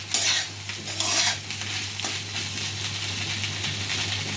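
Poha roasting in a pan over a medium flame on the stove, stirred now and then, gives a steady close sizzle with scraping spoon strokes and light clinks of the pan. No voice is heard.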